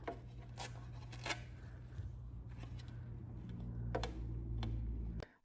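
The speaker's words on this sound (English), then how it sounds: "every time I scrape it with metal" A metal scraper rasps against a vintage metal canister in several short, close scrapes with brief pauses between strokes, and no talking.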